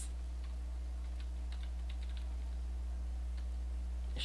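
Keywords typed on a computer keyboard, a few faint scattered key clicks over a steady electrical hum, with no talk.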